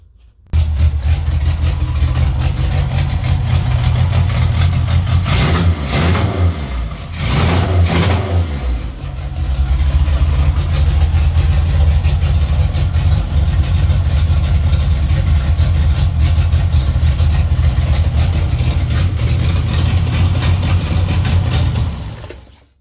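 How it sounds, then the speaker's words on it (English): A car engine idles with no exhaust fitted, loud and raw, with a steady, uneven throb that dips and surges briefly around the middle before settling again, running close and alone for about twenty seconds. "Seems to have started up fine without the exhaust on, but it's a bit loud"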